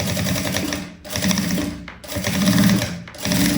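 Sewing machine stitching the seam of a simple shoulder bag, running in steady mechanical bursts with brief pauses between passes, close and fairly loud with no talking.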